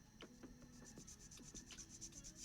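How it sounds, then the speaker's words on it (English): Sanding sticks rub against a small wooden part of a miniature house, giving soft, close scratchy strokes repeated in a quick uneven rhythm over a quiet background. "let's take my sanding sticks here as usual"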